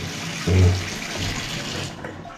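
A tap runs in a rented room in Kodaikanal, giving a steady close gush with a louder surge near the start before it settles into an even flow.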